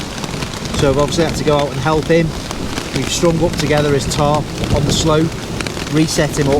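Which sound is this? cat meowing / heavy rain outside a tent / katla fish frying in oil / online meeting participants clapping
heavy rain outside a tent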